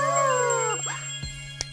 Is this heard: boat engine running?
no